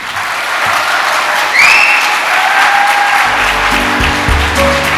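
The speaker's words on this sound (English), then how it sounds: "Can we have another round of applause, everyone, for Dr. Rob?" Loud, continuous audience applause fills a graduation ceremony hall at Atlantis The Palm in Dubai, holding an even level throughout with a few high whistles rising above the clapping.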